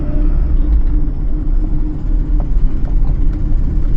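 A 2005 Maruti Suzuki Baleno's 1.6-litre engine pulls in third gear on a test drive, a steady, close, low rumble that drones on without a break and with no voices.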